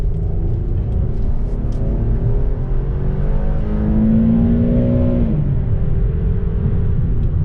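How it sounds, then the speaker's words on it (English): A 2017 Infiniti QX50 crossover under hard acceleration: a loud, steady engine drone climbs in pitch for several seconds, then eases off, with no talking. "Let's turn back around and give another hard little acceleration"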